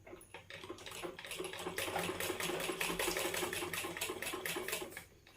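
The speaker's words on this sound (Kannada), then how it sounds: "ಈ ರೀತಿ ಲೈನ್ ಹಾಕಿದ್ಮೇಲೆ ಇದ್ರ ಮೇಲೆ ಕರೆಕ್ಟಾಗಿ ನೀವು ಸ್ಟಿಚಿಂಗ್ ಅನ್ನೋದು ಹಾಕ್ತಾ ಬರಬೇಕಾಗುತ್ತೆ" A sewing machine stitches along a marked line on cloth, a fast even rattling run of needle strokes that starts, holds steady and close for several seconds, then stops.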